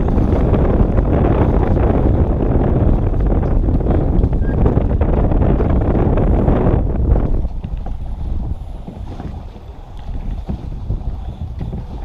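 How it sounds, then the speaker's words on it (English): Strong wind roars and buffets the microphone out on a boat, loud and constant for about seven seconds before dropping to a lower, gustier rush. "But man, this wind is something else."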